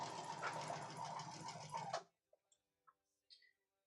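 A sewing machine runs steadily for about two seconds, stitching pieces of fabric together for a quilt block, then stops abruptly, leaving a few faint clicks and taps in near silence.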